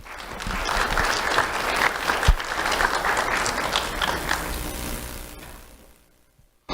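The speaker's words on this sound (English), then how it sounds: "Round of applause for Dominic." An audience at a sheriff's office awards ceremony applauds a young award winner, with lively clapping that swells, holds for several seconds, then fades into near silence.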